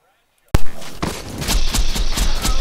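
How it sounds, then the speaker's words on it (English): Gunfire in a Borderlands 2 boss fight against Pyro Pete the Invincible, a sharp loud opening blast followed by a rapid run of repeated shots and impacts over game effects. "And here I put the last few shots in him."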